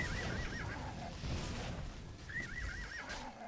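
A horse in the video game Oblivion whinnies twice in wavering cries while under attack, over a busy low rumble of game combat.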